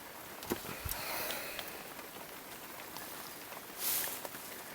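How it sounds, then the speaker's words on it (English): Heavy rain pours down outdoors at a rural tiny-house plot in Portugal, a faint steady hiss with a few scattered nearby knocks and rustles, no one speaking. "at the moment it's pouring with rain"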